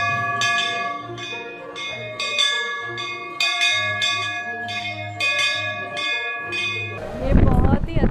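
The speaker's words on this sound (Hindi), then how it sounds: "नई टेक्नोलॉजी देखने मिली है जो सेंसर के थ्रू घंटी बिना छुए बज जाती है।" Brass temple bell struck repeatedly by a touchless sensor mechanism, a loud ringing series of clangs with long overlapping resonance, ending in a brief burst of noise.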